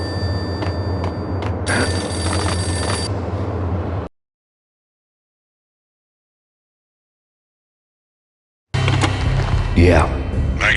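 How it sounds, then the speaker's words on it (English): A payphone rings in the video game Max Payne, bursts of bright bell-like ringing over a dense game background, breaking into a long silence before the ambience resumes. "The payphone started to ring."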